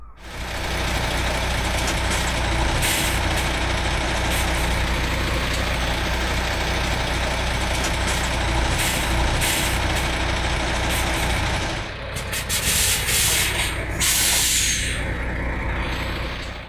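A diesel semi-truck tractor idles and rumbles steadily up close as it approaches a trailer for coupling, with a sharp hiss of air brakes near the end.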